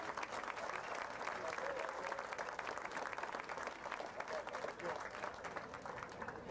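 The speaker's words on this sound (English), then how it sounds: "So let's give them a round of applause." Crowd applause at a school event, a continuous close wash of clapping with some crowd noise mixed in, holding steady throughout.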